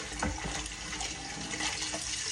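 Tap water running steadily into a sink while raw chicken liver and heart are washed, a close continuous hiss and splash with no break.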